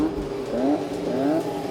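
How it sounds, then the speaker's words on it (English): Classic Formula 1 racing cars drive past at the Goodwood Festival of Speed, their engine notes rising and falling as each car revs and passes at a moderate distance, with no talk over them. "Seeing a procession of, in particular, F1 cars from across the decades is absolutely mind-blowing."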